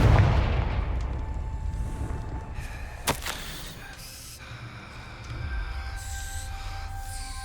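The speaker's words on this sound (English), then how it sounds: "Confringo!" A Confringo fire spell blast in Hogwarts Legacy bursts out as a sharp, loud crack a few seconds in, set against a steady rumbling game soundscape with faint tonal hums.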